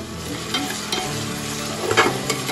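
Onion frying and being stirred in a pan for chicken biryani, a steady close sizzle with a few louder scraping stirs near the end and no talking.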